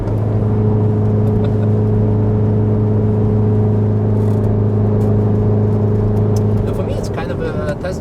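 A modified car drives on a race track with a steady, loud engine drone heard from inside the cabin, while people talk over it.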